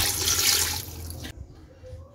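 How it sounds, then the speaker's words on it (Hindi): A glass of water is poured into a cooking pot of beef with sliced onions, making a loud, rushing splash for about a second before it cuts off to quiet background. "जी तो इसमें डालेंगे 1 गिलास पानी"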